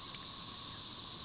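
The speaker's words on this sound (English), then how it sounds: "a little bit about the cicadas since we're experiencing them here in southern Illinois" Cicadas drone in southern Illinois, a loud, steady, high-pitched insect buzz that holds unbroken throughout and is heard alone.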